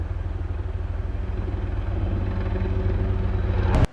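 A helicopter flying near a backcountry airfield in Montana gives a steady, throbbing rotor drone at moderate distance. It holds evenly throughout and ends with a sharp click.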